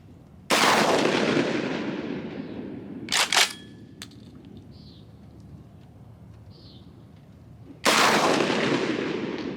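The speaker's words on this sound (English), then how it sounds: "let's go back to the shooting range, the outdoor shooting range, because this range is only handgun ammo, and do some more shooting" A Garaysar Fear-109 bullpup pump-action shotgun firing at an outdoor range: two loud, sharp blasts several seconds apart, each trailing a long echoing roll, with a brief mechanical clatter between them.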